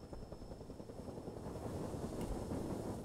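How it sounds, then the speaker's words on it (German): Helicopter rotor drone from the video game Trouble in Terrorist Town, a steady low rumbling thrum that holds at an even, moderate loudness for about three seconds with no one talking over it. "Dann landen Helikopter."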